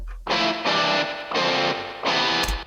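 A distorted electric rock guitar strums four sustained chords in a steady sequence, big major 7 and minor 7 voicings built on fifth and root notes, loud and alone.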